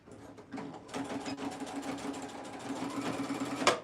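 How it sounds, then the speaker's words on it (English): A sewing machine runs a continuous close, rhythmic whirring stitch through thick cow print fabric for shorts, fitted with a denim needle, ending with a sharp clunk. "I'm going to sew towards the outer edge at 1/4 seam allowance"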